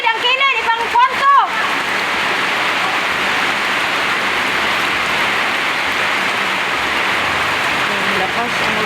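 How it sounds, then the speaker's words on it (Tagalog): Heavy rain pours in a dense, constant hiss and patter, loud and close, with a brief voice at the very start before the downpour continues alone. "Malakas ang ulan."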